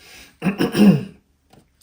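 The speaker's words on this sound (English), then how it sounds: "I'm sorry, I'm clearing my throat" A person clears their throat in a short, rough burst, followed by a faint second catch and a brief breath.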